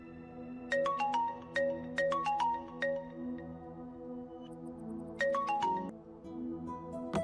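A phone ringtone for an incoming call, a bright repeating melodic chime played in two phrases with a short pause between, fairly close and alone.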